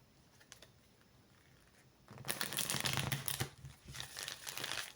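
Tarot cards being shuffled by hand, a quiet rustle for two seconds that then becomes a louder, steady riffling and crinkling patter with no talking.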